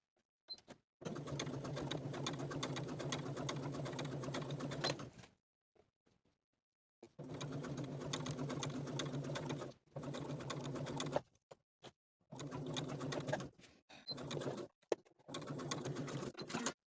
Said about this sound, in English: I'm going to sew a basting stitch right down the middle of the elastic